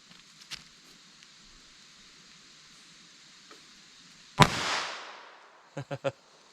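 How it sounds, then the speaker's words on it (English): A Taurus TX22 .22 LR pistol fires once from 7 yards, a single sharp loud crack followed by a brief decaying ring and then a few quick clicks. "So I'm going to fire from 7 yards."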